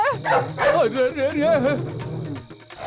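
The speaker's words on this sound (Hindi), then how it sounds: "कुत्ता है बे?" A dog barks and yips in a quick excited burst, close and fairly loud, mixed with whimpering tones.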